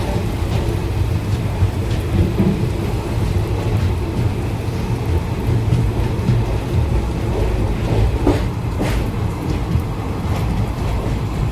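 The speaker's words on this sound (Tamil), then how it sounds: "செம மழை, இந்த மழை பிச்சுக்கிச்சு" Heavy monsoon rain pours steadily at a railway station platform near Mehboob Nagar, a dense continuous roar with low rumbling thunder beneath, no voices.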